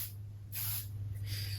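Spray varnish hisses from an aerosol can onto a painting in three short bursts, close and fairly quiet, with no talking.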